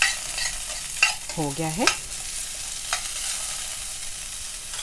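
Potatoes sauté in a pan and are stirred with a utensil, producing scraping strokes over a soft sizzle, with a brief spoken phrase partway through.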